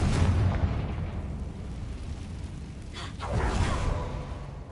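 A Confringo blasting-spell explosion in a Harry Potter video game: a loud, deep boom that rolls off into a rumbling decay, then a second whooshing burst swells near the end.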